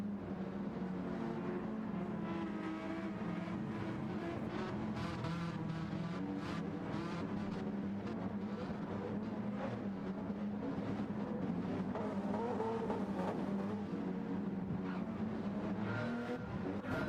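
A McLaren 650S race car in classic Marlboro livery roars around the Deep Forest circuit in a racing game, its engine loud and continuous with steady revving and shifting pitch throughout.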